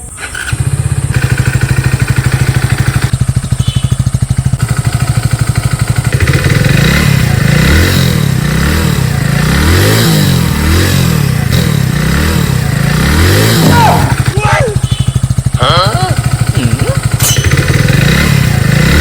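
A motorcycle engine runs loudly and close, rising and falling in pitch with revs and an occasional squeal, while voices talk over it.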